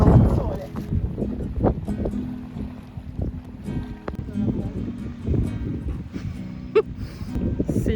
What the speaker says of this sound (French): On commence à avoir beaucoup de vent.